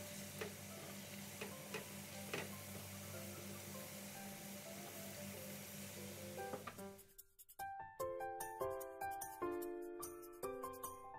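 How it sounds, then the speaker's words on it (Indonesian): Pastel jalangkote, savory filled pastries, frying in hot oil over a high flame: a steady, dense sizzle runs for about seven seconds, then gives way to music. "Gorengan kedua, apinya dibesarin. Tunggu sampai minyaknya panas lagi, baru dimasukkan."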